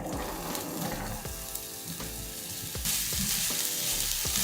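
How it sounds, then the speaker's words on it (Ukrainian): Onions sizzle and crackle steadily in hot oil in a pan, a continuous frying hiss with small pops, close and fairly loud, no voices. "На сковорідку вливаю олію, небагато і закидають цибульку."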